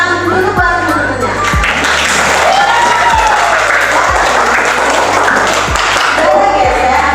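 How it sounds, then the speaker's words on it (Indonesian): A class applauds classmates, a continuous loud patter of clapping with crowd noise and a few voices, plus a steady low hum and occasional knocks throughout. "Tepuk tangan dulu buat teman-temannya."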